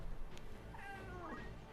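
A grumpy house cat lets out one drawn-out, wavering meow with a falling tail, heard over a low, steady background hum.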